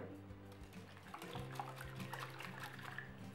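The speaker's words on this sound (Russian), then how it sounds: "700 граммов я наливаю в миску обычное теплое или даже холодное молоко" Milk pours into a bowl in a home kitchen while pancake batter is being made, a soft, continuous liquid trickle with small splashes, faint and close, with no voices.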